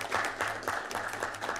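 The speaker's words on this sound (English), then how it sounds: "could we just give a round of applause for Mr. Giberson, the high school, for their leadership" Brief round of applause at a school board of education meeting, a modest scattering of hands clapping in a room with a faint low hum beneath, heard alone without talk.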